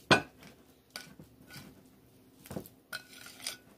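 A utensil stirs a cream cheese and cheddar cheese mixture in a bowl, giving a few sparse, light clinks and scrapes against the bowl in a quiet kitchen.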